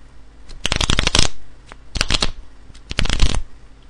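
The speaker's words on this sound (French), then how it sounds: "En mélangeant mes cartes." A deck of playing cards shuffled by hand nearby, three loud riffling bursts with short pauses between them.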